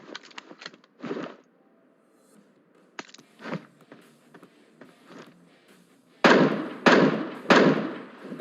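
An MK14 rifle fires in PUBG Mobile, sharp single shots and short bursts cracking out at irregular intervals, with the last three shots much louder and closer.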